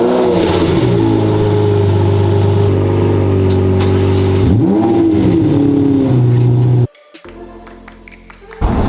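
Lamborghini Murcielago in Verde Draco pulling away, a loud, close V12 engine holding a steady note, rising in revs around the middle, then cutting off abruptly to near quiet before a brief return at the end.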